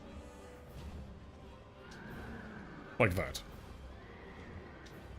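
A horse enemy in Dark Souls 2 gives a sharp, loud neigh partway through, rising over game ambience while someone talks before and after it.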